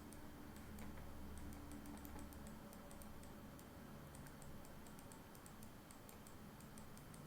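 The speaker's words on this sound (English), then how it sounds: "So on my calculator, I'm going to type in this." Numbers keyed into a calculator keypad: a run of small, quick clicks in short irregular bursts, close by and fairly quiet over a steady low room hum, with no talking.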